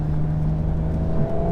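Engine of a Stage 1 Audi S4 drones steadily under acceleration around 3,000 RPM, a loud, close, even tone heard alone with no voices.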